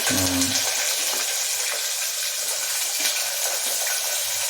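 Curry leaves and onions sizzling in hot oil in a home kitchen pan, a steady bright crackling hiss, close and continuous, with a brief low voice at the start.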